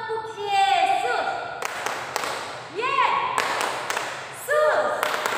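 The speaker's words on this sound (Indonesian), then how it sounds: "Tante ingin mengajak adik-adik tepuk Yesus" Children clap the 'tepuk Yesus' chant at an online Sunday school worship session, with sharp rhythmic claps between chanted voices that rise and fall together.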